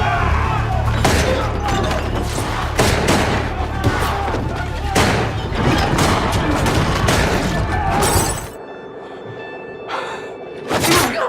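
Pistol gunfire erupts in a bar fight scene, with repeated sharp shots and thuds in a dense, chaotic burst that is loud and close, then drops to near quiet before a final few hits.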